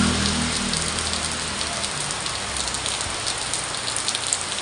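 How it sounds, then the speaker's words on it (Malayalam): A hard morning downpour hisses without a break, driven by wind and spattering close by, with no talking heard. "നല്ല ഉഗ്രം മഴ രാവിലെ തന്നെ."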